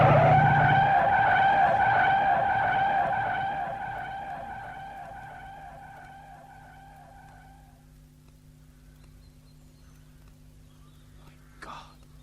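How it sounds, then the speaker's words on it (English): A motorbike races past too fast as a radio drama sound effect, its engine a loud, steady droning whine that fades away over several seconds into quiet, broken near the end by a brief sharp noise. "There's a bike coming and it's too fast."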